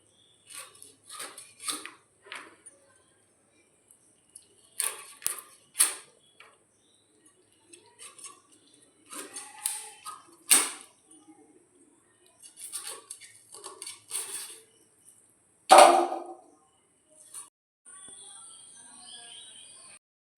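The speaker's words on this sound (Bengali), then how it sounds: "এবার আমরা মাংসটাকে পিস করে ফেলবো" Raw chicken is cut into pieces for a curry with potatoes, making short clicking and scraping knife or scissor snips in uneven clusters. The cutting is close and quiet, with birds chirping in the background.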